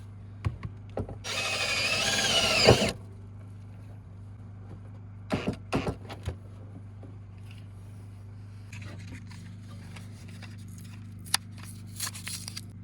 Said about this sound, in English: A little self-drilling screw here.